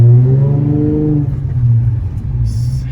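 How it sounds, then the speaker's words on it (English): A 2008 Nissan 350Z automatic driving along in drive, its engine a low steady drone that rises slightly and then settles, close and fairly loud throughout. "driving the 2008 Nissan 350Z automatic"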